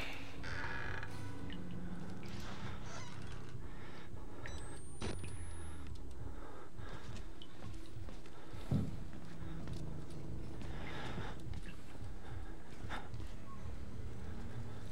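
Doors creaking open in the horror video game Outlast, inside a bathroom area, with a drawn-out rising creak over dark, rumbling game ambience and a few scattered knocks and thuds.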